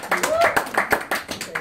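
Several quick bursts of comedy club audience clapping and cheering, brief and lively, with voices mixed in.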